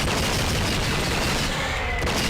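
Dense, continuous gunfire from the True Crime: Streets of LA video game, a loud sustained barrage of rapid shots with booming impacts filling the whole stretch, no talking over it.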